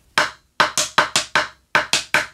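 Snare drum struck on the rim for the first measure of the rudiment Skiddo, eight sharp, dry clicks in an uneven rhythm, loud and close with no talk.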